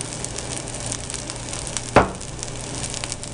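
Vegetables, garlic, onion, green peas and eggs stir-fried for fried rice in a hot pan, a steady close sizzle with one sharp scrape of the utensil partway through.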